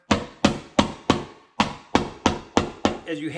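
Nine sharp hammer blows strike a paint can lid in a steady rhythm, each a loud close knock that rings briefly, followed by a short bit of voice at the end.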